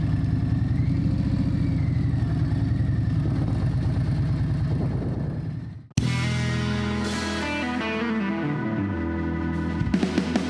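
Motorcycle engine on a ride home, heard from a rider's helmet camera: a steady, loud low rumble with wind, then a sudden cut to a clearer, higher engine drone with shifting revs.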